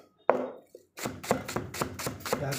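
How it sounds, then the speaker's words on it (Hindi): Green chillies are chopped with a knife on a cutting board: one sharp tap, a short pause, then a quick steady run of about seven close, crisp chops. "मिर्ची को चॉप करेंगे, थोड़ी बड़ी बड़ी चॉप करेंगे,"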